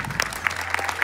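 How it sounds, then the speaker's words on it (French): An audience applauds singers after a friendly singing contest, a steady patter of clapping with a low steady hum underneath, lasting about a second. "franchement on peut tout le monde applaudir"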